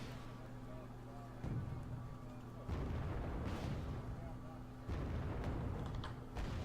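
Tank guns fire in a multiplayer strategy game tournament match, heavy booming blasts landing at irregular intervals over a rumbling battle bed, with commentary voices running throughout.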